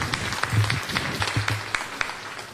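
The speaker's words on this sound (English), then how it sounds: "Can we give him another round of applause, please?" Audience applause for Senator Muse at a listening session, with scattered, uneven hand claps close by that rise and fall over a couple of seconds.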